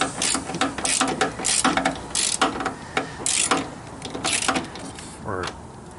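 A socket ratchet turns a bolt on a 2004-2009 Gen 2 Toyota Prius coolant control valve, giving repeated bursts of close, rapid clicking separated by brief pauses, with a voice speaking alongside.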